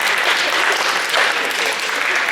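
Dense audience applause at a high school post-prom show, steady and loud for the whole stretch with many hands clapping at once.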